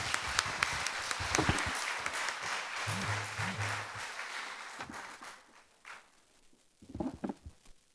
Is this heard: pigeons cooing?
no